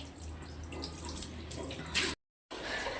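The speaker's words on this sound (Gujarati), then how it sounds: "હવે એને છે ને ફૂલ છોડને બાકીનું પાણી પાઈ દઉં" Leftover water is poured from a vessel onto flowering plants at home, giving a soft, close splashing trickle. The pour is quiet and continuous, swells briefly, cuts off for a moment, then resumes.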